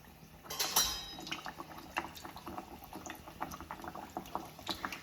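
Thick Mangalore buns drop into hot oil and fry with a steady crackling sizzle, with a sharp burst of spitting as the dough goes in, settling into busy popping and bubbling.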